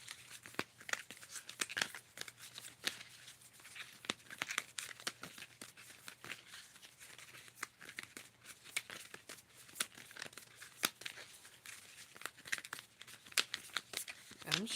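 Tarot cards are shuffled softly and repeatedly in close range, a string of quick papery riffles and snaps that continues without pause.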